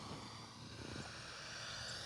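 An E-flite Turbo Timber Evo electric RC airplane, 1.5 m span with big soft tires, taxis on grass with a steady, even motor whine and airscrew hum and no talking.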